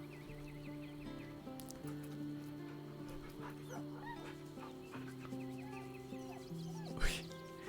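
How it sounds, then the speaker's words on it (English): A dog being petted in the Baldur's Gate 3 video game gives soft whimpers and small yips over steady game music, with one brief louder burst near the end. "Pet that dog."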